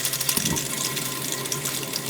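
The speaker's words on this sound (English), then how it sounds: "And it starts putting out hot water." Hot water from a portable water heater at an overlanding campsite near the Grand Canyon runs steadily from a tap in a close, continuous splashing gush with no talk.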